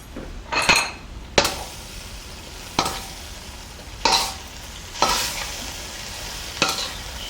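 Sesame oil gets stirred into beef and broccoli in a pan, with a spoon scraping and clinking against the metal in a series of strokes over a soft, steady sizzle.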